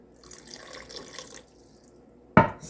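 Water splashes briefly into a cooking pot of beans simmering in ham drippings, a short loud pour near the end after faint kitchen noise.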